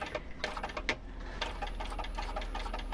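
Sewing machine stitching the exterior pieces of a fabric pouch together within the seam allowance, a steady rapid mechanical whir with light ticking, close and continuous with no talk.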